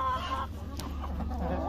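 Free-range laying hens cluck repeatedly at close range, a busy run of short clucks with no talking.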